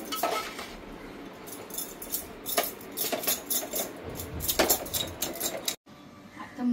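Spoon scraping and clinking against a bowl while cardamom powder, poppy seeds and mawa are mixed, a steady run of light metallic taps and scrapes, close and fairly quiet.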